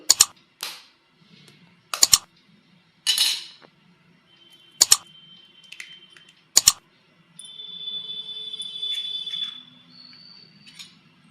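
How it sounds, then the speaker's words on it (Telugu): Two eggs are cracked into a bowl of soaked soya chunks: a series of sharp cracks and taps against the bowl, spaced a second or two apart, followed by a brief soft scraping. "టూ ఎగ్స్ వేద్దాం"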